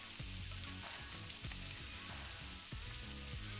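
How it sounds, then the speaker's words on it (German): Potato hash fries in a pan with a continuous close sizzle, broken by a few sharp scrapes and stirs as it browns, and no one speaks. "wir lassen das Ganze jetzt so in der Pfanne, so dass es halt schön braun wird, dass es schön bräunlich gebraten wird."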